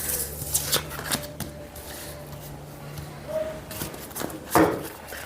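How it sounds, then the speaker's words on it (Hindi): A deck of tarot cards is shuffled and handled, producing soft riffling swishes and a few sharp slaps and taps at irregular moments, close but fairly quiet, with brief faint murmurs in the background. "थोड़ा सा मैं कार्ड्स को एडजस्ट कर लेती हूँ।"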